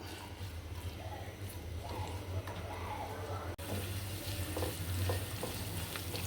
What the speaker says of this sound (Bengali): তারপরে রসুন কুচি পেঁয়াজ এগুলো একটু হালকা ভেজে নেব